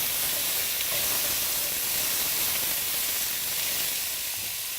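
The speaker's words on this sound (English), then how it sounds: "I will saute them around just a little, just so that they can cook down" Peas and carrots sauté in oil for a vegetable pulao, giving off a loud, continuous hissing sizzle up close with no voices.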